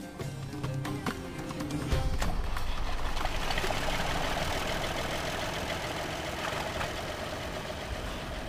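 A low tractor engine idles steadily at moderate distance, a rumbling chug with some rattling knocks near the start.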